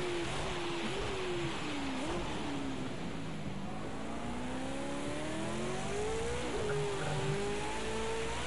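A V8 Supercar engine drones in a racing video game at Zolder, holding a steady loud tone as the pitch dips and climbs with shifts and revving, close and continuous.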